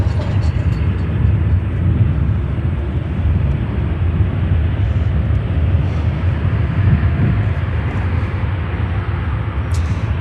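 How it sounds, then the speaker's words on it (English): An American Airlines Boeing 787-8 Dreamliner arriving from Barcelona comes in to land at Chicago O'Hare, a continuous distant jet rumble with steady low roar and no nearby voices. "That is American 787-800, the baby Dreamliner coming in from Barcelona in Spain"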